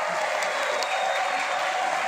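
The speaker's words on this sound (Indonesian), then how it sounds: "berikan tepuk tangan yang meriah sekali lagi" An audience applauds after a university lecture on big data in cyber security, a steady, even wash of clapping from many hands, with no talking over it.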